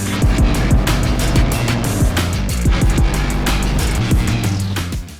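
A 2025 Ducati Panigale V4 S revs hard on a race track, loud engine notes rising and falling in quick repeated throttle sweeps, close and dominant with no talk.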